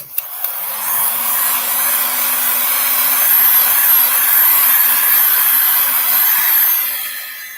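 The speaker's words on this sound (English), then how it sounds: "I need to dry a little bit more before I do another one." A hair dryer blows steadily and loudly on an art project for several seconds after a couple of clicks as it switches on, then tapers off near the end.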